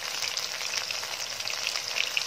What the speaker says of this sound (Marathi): हे छान गोल्डन कलरवर आपल्याला फ्राय करून घ्यायचे असतात।